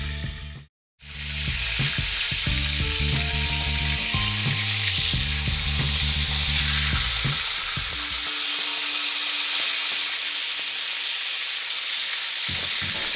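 A batch of food frying in hot oil until golden brown and crisp, a loud, dense and continuous close sizzle that drops out briefly near the start, then holds steady with faint clinks and hum underneath.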